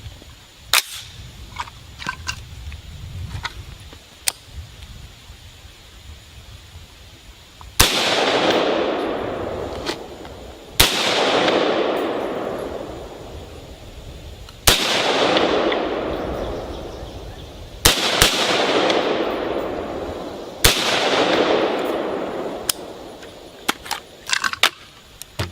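Five sharp AR-style rifle shots fired from a standing position at a range, each a loud crack with a decaying echo, spaced a few seconds apart, preceded by faint handling clicks of loading a magazine.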